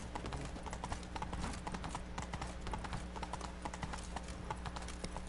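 Roach, the horse from The Witcher 3, trots along in a steady, even clip-clop of hooves, close and fairly quiet over a low hum of game ambience.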